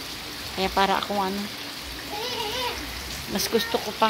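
Heavy, steady rain pours down in a continuous dense hiss, close and loud throughout, while someone talks over it.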